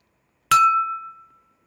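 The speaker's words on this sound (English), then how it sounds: "a sound pulse with my glass and a spoon" A metal spoon strikes a drinking glass once, giving a sharp clink that rings out as a clear tone and fades within about a second, alone against silence.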